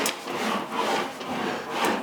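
Body filler on the front valence of a 1974 Dodge Charger is sanded by hand, giving rhythmic close rubbing strokes in repeated passes.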